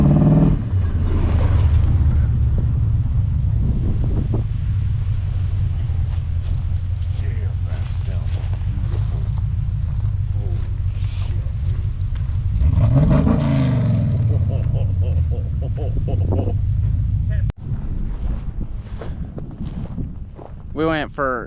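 A Trans-Am fitted with a new radiator and headers drives past, its engine loud and revving, rising and falling as it nears and recedes, with road rumble and wind and no talk.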